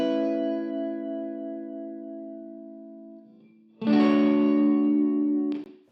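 An electric guitar, panned left with room reverb, sounds alone: a sustained chord that slowly decays for three seconds, then a freshly struck, louder chord that rings with a reverberant shimmer before being cut off sharply.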